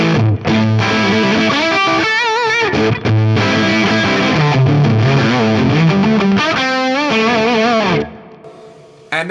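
Electric guitar played through an Axe-Fx III Marshall amp model rings out with aggressive, distorted tone: chords and sustained bends with a wobbling vibrato, loud and upfront, then cut off into a quiet tail.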